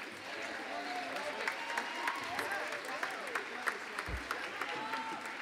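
Audience applause for a band at a live performance, a steady wash of clapping with scattered sharper claps, fairly distant, with faint voices mixed in.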